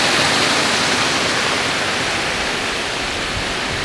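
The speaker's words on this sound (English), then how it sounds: "the waterfall is right here now." A waterfall near Yelapa, Jalisco roars as a broad, steady rush of falling water, loud and close, with no voices over it.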